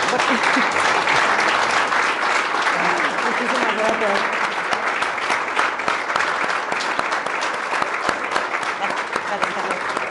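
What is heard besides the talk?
audience applauding the author Aixa de la Cruz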